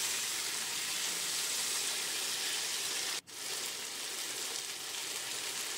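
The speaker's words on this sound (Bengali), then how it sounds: "এবার 4-5 মিনিট আমি সজনে ডাঁটাগুলো ভেজে নেব।" Moringa drumsticks and potato pieces fry in a pan with a steady, even sizzle and crackle. The sound stays close and constant, with one brief dip partway through, and no talking.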